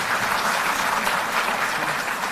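A crowd at a Delhi government event for Jal Board workers made permanent claps continuously, loud, dense applause sustained evenly with no pauses and no speech over it.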